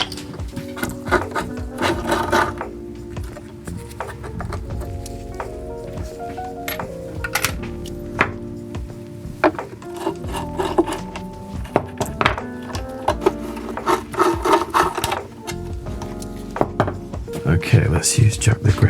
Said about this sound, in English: So let's get a nut driver.